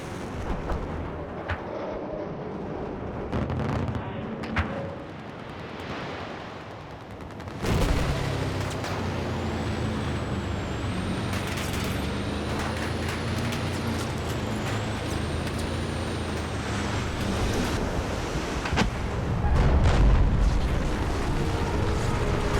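Large-scale destruction in Battlefield 4 as a destroyer warship is dislodged and driven onto C point, a sustained loud roar of crashing and rumbling debris with scattered sharp impacts and gunfire-like bursts throughout.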